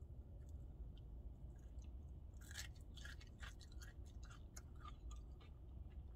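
Quiet close-up chewing of a crunchy fried chicken burger built from two McDonald's McCrispy patties, with soft crunches and wet bites clustered in the middle over a low background hum.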